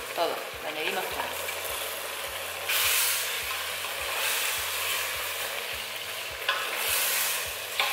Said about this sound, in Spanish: Ahora le voy a añadir el pollo.